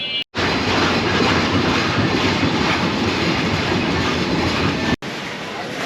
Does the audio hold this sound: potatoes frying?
no